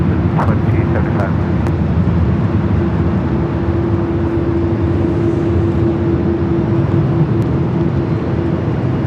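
An airliner landing on runway 24 right at LAX gives a steady, loud jet roar with a sustained hum that holds evenly across the whole stretch, and faint voice chatter sits underneath.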